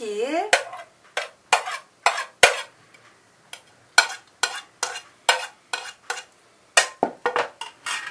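A spoon mixes tuna tartare in a bowl with diced cucumber, onion, red and yellow paprika, parsley, dill, salt and pepper. About fifteen crisp clinks and scrapes follow in an uneven rhythm, close up, with quiet gaps between them.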